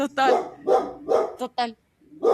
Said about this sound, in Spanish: El perro les ladra.